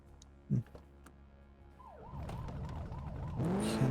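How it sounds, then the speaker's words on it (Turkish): A wailing police siren in the video game The Precinct rises and falls repeatedly, starting partway through over a low engine hum, growing louder toward the end. "sivil bir arabaya binince üstünde siren geliyor diyor"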